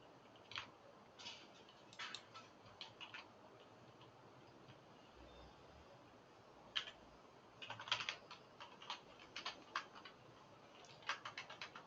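Typing on a computer keyboard with occasional bad keys: bursts of quiet clicking keystrokes, irregular and close, with short pauses between runs over a low background hiss, no voices.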